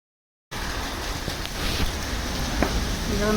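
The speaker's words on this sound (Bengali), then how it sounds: "খুব জোরে বৃষ্টি হচ্ছে।" Heavy rain pours steadily on a village home during a power cut, a dense continuous hiss that starts abruptly and stays loud throughout with a few faint knocks in the background.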